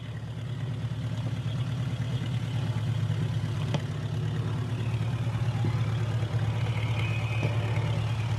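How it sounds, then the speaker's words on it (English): A 1945 Oliver row crop tractor rolls past in a small-town parade, its engine giving a steady low, throbbing idle-like drone that stays fairly loud and continuous, with faint outdoor background noise. "We got a tractor here."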